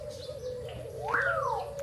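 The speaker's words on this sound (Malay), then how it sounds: "Sekarang kita nak tengok ni ada burung." At Zoo Taiping, a bird gives a soft, steady cooing hum, then a clear, rising-and-falling whistled call partway through, heard close by with no voices.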